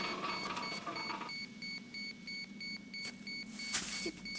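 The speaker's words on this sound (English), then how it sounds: "The alarm's going again." An anime alarm sounds as a steady electronic tone repeating under faint background noise, fairly quiet and continuous with small bursts of other sound near the end.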